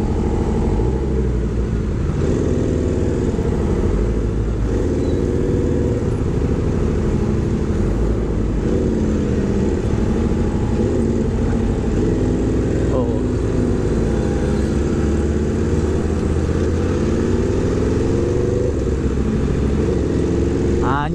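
An Aprilia RSV4 RR motorcycle engine drones loud and steady while riding, with rises and falls in revs throughout, and a rider's voice talking over it at times.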